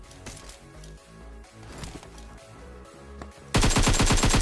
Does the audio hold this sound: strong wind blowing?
no